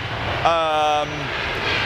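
A passenger airliner arriving at London flies overhead, its engine drone rising with a clear tonal whine that sweeps down in pitch as it passes, loud over steady background noise.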